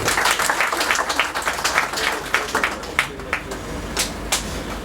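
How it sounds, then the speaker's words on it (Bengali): Applause for a couple at their 25th wedding anniversary celebration, a roomful of people clapping steadily and loudly for about five seconds, the claps thinning out slightly toward the end. "সকলে তাদের জন্য একটা করতালি"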